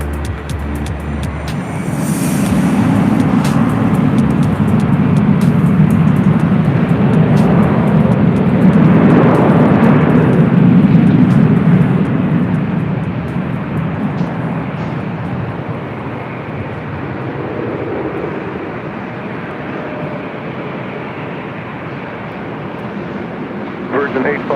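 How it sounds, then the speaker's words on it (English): A Philippine Airlines Boeing 777 arriving at LAX on the north side gives a broad roar that swells to a peak and then slowly fades, heard from a distance alongside talk. "we do have a Philippine 777 who is going to be arriving here on the north side in a matter of moments"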